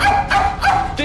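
A dog yips and barks in three or four short, sharp bursts close by, with no talk over them.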